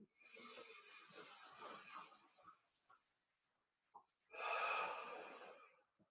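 Slow, deep breathing in a class, with a long airy breath drawn in, a pause, and then another long rushing breath, close and fairly soft, with no speech.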